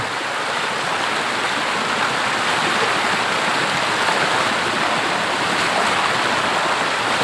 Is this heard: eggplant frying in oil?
no